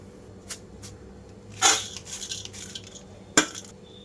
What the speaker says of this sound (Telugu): ఇవన్నీ వేరే ఒక బౌల్లోకి తీసుకుంటున్నాను